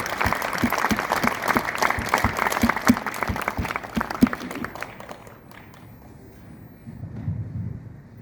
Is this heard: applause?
yes